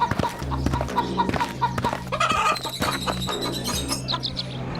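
Animated chickens cluck and chirp close by in a busy, overlapping flock, with a steady rhythmic background noise underneath.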